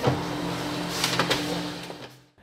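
Dot matrix printer printing, a steady mechanical whir with tonal hums and faint rattling head strikes, continuous for about two seconds before stopping abruptly.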